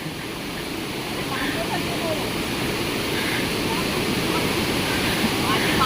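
A steady, loud rush of flowing water fills the whole stretch, a dense continuous roar without pauses.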